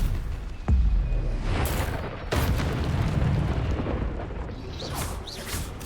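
Spells Protego and Stupefy are cast in a video game, giving loud booming bursts with a sharp impact followed by rumbling, explosive sustain, with a second blast a moment later.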